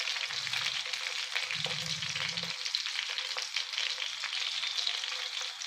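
Green chillies and coriander seeds fry in oil over a low gas flame, a steady close sizzle with a couple of brief low scraping stirs and no talk.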